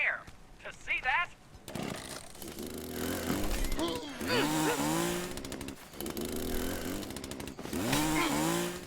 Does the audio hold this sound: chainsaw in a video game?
yes